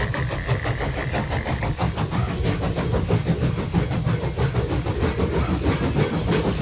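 A model garden railroad train runs past outdoors, a loud, continuous rumble with steady rhythmic clickety-clack of wheels on rail joints and mechanical chuffing throughout, close by and with no speech.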